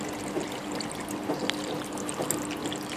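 Water from a 100-liter aquaponics tank, driven by a 38-watt pump, pours steadily back through a hose outdoors, a continuous close splashing flow with a few small gurgles.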